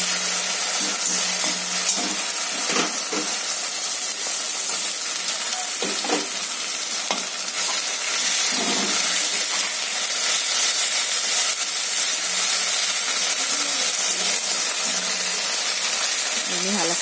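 Onion browned to a deep red frying with ginger-garlic paste and spices, making a loud continuous sizzle and hiss throughout with occasional stirring scrapes and clatter near at hand.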